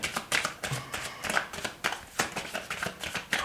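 A deck of tarot cards being shuffled close up, a rapid run of crisp riffling flicks and soft slaps at a quiet level with no voices.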